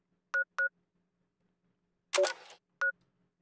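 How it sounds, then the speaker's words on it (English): Pip-Boy interface sound effects from the Fallout 3 and New Vegas games, used as a Steam Deck menu theme: a few short, clean electronic beeps and one brief crackly burst, quiet and isolated. "select Pip-Boy sounds, Fallout 3 New Vegas. So that'll be our sound effects, as you can hear."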